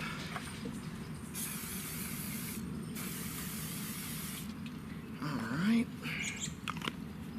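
Cooking spray hissing onto a cast pie iron at a campfire, a few quiet bursts of aerosol spray spread across the clip with faint background noise.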